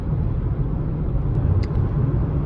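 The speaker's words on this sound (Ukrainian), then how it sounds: "вже на трасу виїхав, їду" Renault Zoe electric car cruising on a highway at about 75–80 km/h, a steady broadband road and wind rumble heard from inside the cabin, continuous and moderately loud with no voices.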